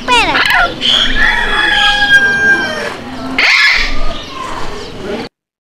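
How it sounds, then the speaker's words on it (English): A parrot gives loud, harsh, repeated calls close by, with one burst at the start and another near the end and a brief gap between them. "P for parrot."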